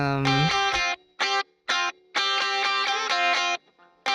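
Distorted electric guitar playing chords through an Archetype Polini amp simulator, with short bursts separated by brief silences, then a long sustained strummed passage.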